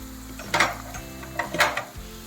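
Green chilies hit hot oil in a pan for drumstick boondi masala curry, giving two short bursts of sizzling and stirring clatter close by, with no talk.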